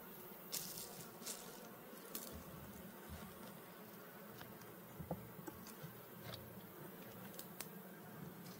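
Bees buzzing around an open Layens hive outdoors on a hot day, a continuous faint drone with a few closer passes and small clicks from frames being handled, no talking.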